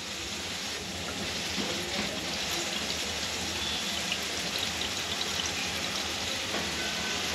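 Water drains off dried jawla shrimp into a plate, a soft, steady trickle heard faintly and continuously throughout.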